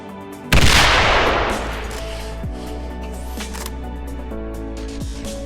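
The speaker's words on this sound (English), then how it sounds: "The grenade didn't come back. It exploded after 6 seconds in the sky" A grenade bursts high in the sky in STALKER with one loud, sudden blast that rolls off into a long fading rumble, then a steady low game ambience with faint mechanical tones.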